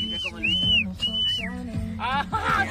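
A person whistles several sliding, high-pitched notes in short phrases during a casual live stream, with voices talking and laughing underneath.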